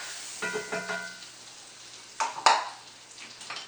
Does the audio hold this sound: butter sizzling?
yes